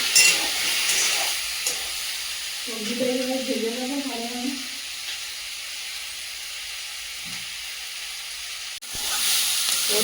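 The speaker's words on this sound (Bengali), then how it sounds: "সবজিটা এখানে ভেজে নেবো ভালোভাবে" Vegetables frying in a pan with a steady hissing sizzle throughout and a few faint stirring scrapes, while a voice briefly hums or talks partway through.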